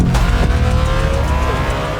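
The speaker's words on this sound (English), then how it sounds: "the naturally aspirated V16, which is going to have this unique sound" A car with a naturally aspirated V16 engine paired with an electric powertrain runs steadily and close, a loud, continuous engine drone with rising harmonic tones and no voices over it.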